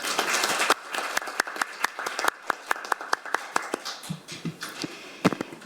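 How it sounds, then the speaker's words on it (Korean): An audience claps at the close of a seminar, a scattered round of applause with individual sharp hand claps standing out, moderately loud and thinning toward the end. "박수와 함께 세미나를 마무리하도록 하겠습니다"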